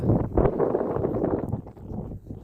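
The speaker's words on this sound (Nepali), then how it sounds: "यता चाहिँ यस्तो चिसो चिसो हावा चलिरहेको छ" Steady cold wind rushes and rumbles against the microphone on a hilltop near a stupa at Sailung, Nepal, a dense low roar without pause.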